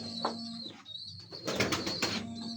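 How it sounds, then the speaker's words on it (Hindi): Pure Kasuri pigeons coo in soft, repeated calls, close by, with some wing flutters and bursts of movement in the middle. "प्योर कसूरी कबूतर है"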